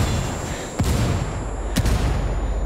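Two heavy gunshots crack out about a second apart during a Ghost Recon Wildlands firefight, over a steady rumbling game background.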